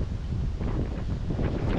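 Strong 30-plus-knot wind buffets the microphone on a sailboat at sea off northwest Spain, a continuous low roar with gusty swells and no distinct voices.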